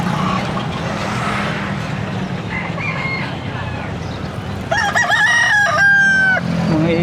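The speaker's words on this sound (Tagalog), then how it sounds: "may mga ibon din, oh." Birds for sale at an outdoor animal market include a rooster crowing loudly near the end over a steady background of market noise and passing traffic.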